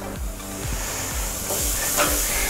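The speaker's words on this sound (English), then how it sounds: "Place our steak over our infrared." An NY strip steak set down over an infrared grill hisses and sizzles steadily and loudly, with a few soft thuds and scrapes as it is placed, and the sizzle surges toward the end.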